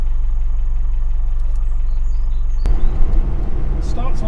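A Land Rover Defender 90 with a 300TDi diesel engine rumbles at a low, steady idle, then a sharp clunk brings a rougher, louder diesel clatter near the end, with no talk.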